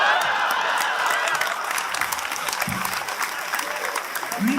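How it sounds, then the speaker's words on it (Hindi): An audience at a Hindi comedy poetry gathering breaks into loud, sustained applause, a thick continuous patter of clapping from a large crowd with some voices underneath, easing slightly toward the end. "जोरदार तालियां होनी चाहिए।"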